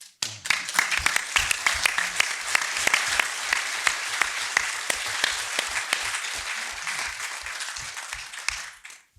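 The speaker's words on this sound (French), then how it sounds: "Mais moi, je voudrais t'applaudir à toi." Sustained audience applause at the opening ceremony of a French event, dense and steady with sharp individual claps standing out over roughly nine seconds before tapering off at the end.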